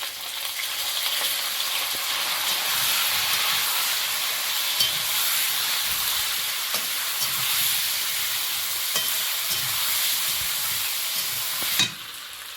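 Garlic, ginger and tomato paste frying in a pan for a fish curry, a dense continuous hiss and sizzle with faint scraping stirs underneath, close and steady throughout without speech.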